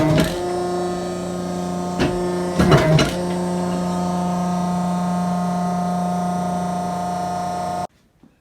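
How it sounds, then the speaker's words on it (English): Die cutting machine slitting vinyl upholstery pieces in a production shop: a steady loud mechanical hum with a few sharp clunks early on, then an abrupt stop. "That's our die cutting machine, and we've just put the slits in the vinyl"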